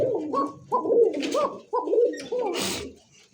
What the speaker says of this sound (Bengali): সেই ডাকের একটা ককা কবুতর, সিঙ্গেল।